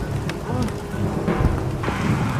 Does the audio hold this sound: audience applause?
no